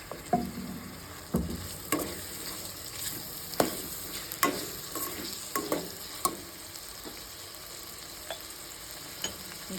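Chopped large tomatoes go into a frying masala for a mutton keema and broad bean curry, producing a steady sizzle with a series of scraping stirs and clinks repeating every second or so, close and clear.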